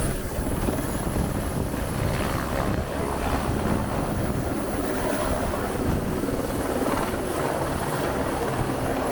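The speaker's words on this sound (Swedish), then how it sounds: "Och vi är här för att ta en helikoptertur." Helicopter on a sightseeing flight over Rio de Janeiro, its steady rotor and engine roar loud and continuous from inside the cabin, with no voices.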